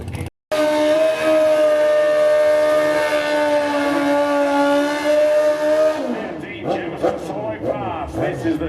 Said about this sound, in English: Look at the tyres. Good burnout. Christmas tree. Right out pre-stage coming out with both competitors.